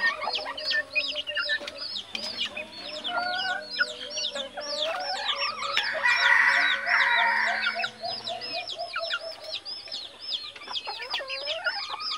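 Mixed labuyo jungle fowl chickens, hunter birds bred from a Basilan hen, cluck repeatedly in rapid bursts with occasional crowing, fairly close and lively against a quiet background.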